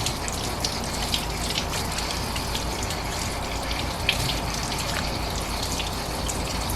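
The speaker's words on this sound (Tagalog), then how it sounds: "we're just going to wash it with water" Tap water gushes and splashes steadily over a pork leg being washed for crispy pata, a constant rushing flow with small splashy spikes and no talk.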